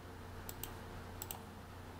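A computer keyboard being typed on gives two short pairs of crisp key clicks, faint and close, over a steady low electrical hum.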